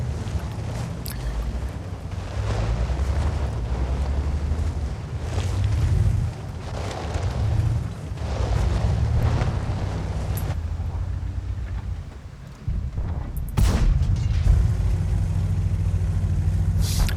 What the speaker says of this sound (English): Just taking a couple blind shots